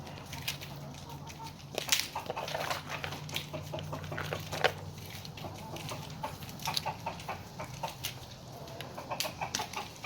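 Several chickens cluck softly and intermittently at moderate distance, with scattered scratching and pecking sounds and a faint steady background hum.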